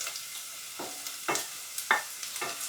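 Potato and broccoli stem pieces sautéed with sliced onion in a pan, stirred in four or five distinct scraping strokes over a quiet background sizzle, up close with no talking.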